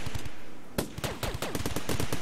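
Sniper gunfire from the video game RimWorld: a rapid burst of sharp, loud shots, first small and quick, then heavier cracks spread across two seconds in an uneven, overlapping volley.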